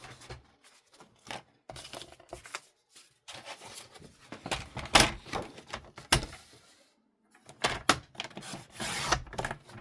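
Paper for a handmade card being trimmed at a craft table: a string of short, faint cutting and sliding strokes in irregular bursts, separated by brief silences, heard up close with no speech.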